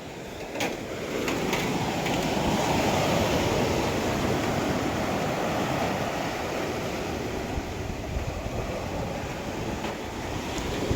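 Continuous broadband wash of surf from the sea at high tide, steady and fairly loud, with a few brief clicks early on and no voices.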